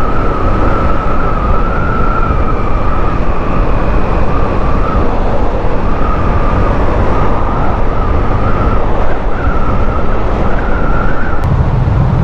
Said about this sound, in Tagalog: LRT ba yan? Gumagana na ba yan? Oo, ayun o. May tren na eh.